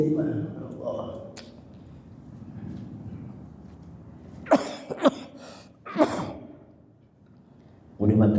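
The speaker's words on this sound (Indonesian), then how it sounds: "Udah batuk-batuk kayak begini kan repot." During an Islamic study gathering, someone speaks softly, then lets out a few loud, close coughs in quick succession, and talking resumes at the end.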